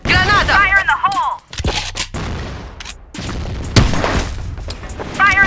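A grenade explodes in an online shooter game amid bursts of rifle fire, with sharp booms and cracks breaking through shouted callouts and game voices.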